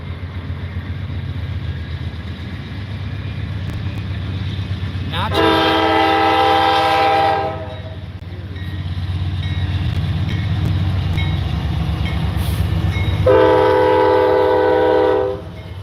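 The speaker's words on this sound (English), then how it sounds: "Loud horn, eh? What do you think of that horn? Was it pretty loud?" A CSX freight train passes close by, its loud horn blaring in two long blasts over a steady rumble and clatter of rail cars.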